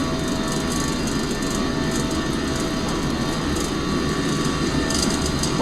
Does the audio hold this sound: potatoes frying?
no